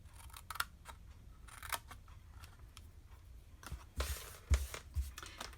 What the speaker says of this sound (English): So again, on this one, cut up the smaller section and notch into the bigger section.